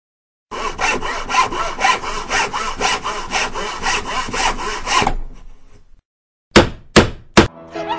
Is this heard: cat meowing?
no